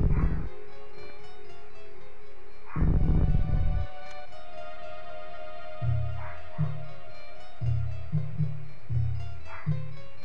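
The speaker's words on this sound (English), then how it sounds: "Dogs are so loud and annoying." Dogs barking in the Super Metroid game: short, low, rhythmic bark-like bursts repeating through the second half over a steady synthesized background tone, with one louder burst near the start.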